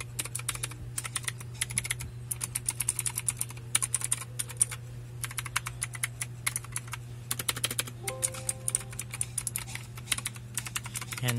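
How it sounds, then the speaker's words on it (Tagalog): Rapid, clattering keystrokes on a loud mechanical keyboard, close and continuous in fast bursts over a steady low background hum, with no talking. "Keyboard na maingay. Mechanical to."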